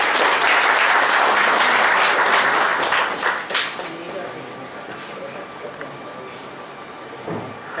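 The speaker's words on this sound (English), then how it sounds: "Thank the speaker. A round of applause" An audience at a one-day labour law seminar inauguration claps after a speech: dense, loud applause for about three seconds, then tapering off with voices talking underneath.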